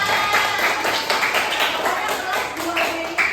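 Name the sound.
class clapping hands in applause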